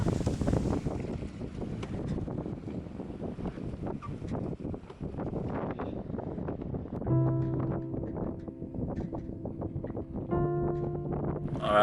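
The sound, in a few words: heavy wind on an anchored sailboat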